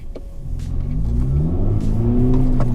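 Honda Civic Type R rolling over a speed bump, with a steady mid-pitched engine drone throughout and a few soft thumps from the suspension, close and fairly loud.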